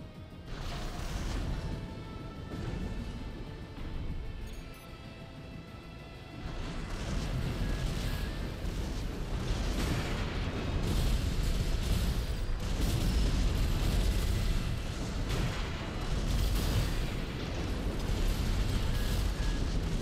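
Missile explosions from a burst rifle, trail missiles and split missiles boom and rumble repeatedly in Armored Core 6 PvP combat, a dense, loud barrage of deep blasts and crackling bursts that grows heavier and continuous after the first few seconds.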